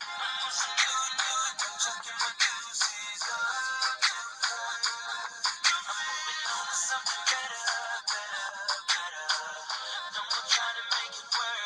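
A phone ringtone plays as a busy electronic melody with rapid repeated notes, loud and continuous throughout with no voices.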